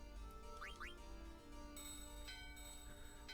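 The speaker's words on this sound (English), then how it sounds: "Ring the bell, ring the bell." Two short rising bell chimes ring out in quick succession in Final Fantasy IX, clear and bright over a steady game music bed, with no talking.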